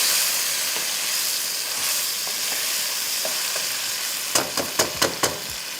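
Mash daal frying with spices in a pot, a continuous soft sizzle and hiss, then a run of five sharp knocks and scrapes from stirring near the end.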